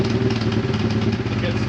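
A custom fuel pump system runs on a Honda Transalp motorcycle fitted with an Africa Twin tank, giving a steady, close, low mechanical hum with faint clatter throughout.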